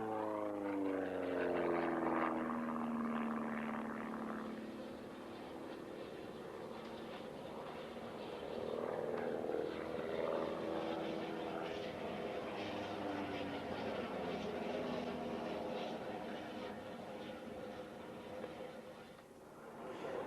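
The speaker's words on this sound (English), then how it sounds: "This is the Christian Eagle, designed as an economical transport, and the Skytech Maverick, built by Skytech of Western Australia." Christian Eagle and Skytech Maverick propeller aircraft fly at the Australian Bicentennial Air Show, their engines giving a faint, droning buzz whose pitch sweeps as they pass, then settles into a distant, steady hum.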